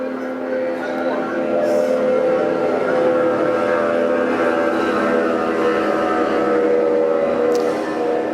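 A motorboat runs along a river, its engine making a steady, continuous drone that holds loud and even throughout, with faint bird calls above it.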